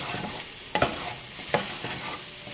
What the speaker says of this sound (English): I already was sauteing some red onions.